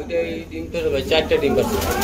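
A yellow pair of running Danish pigeons coo softly in a loft, their low burbling calls close by beneath someone talking.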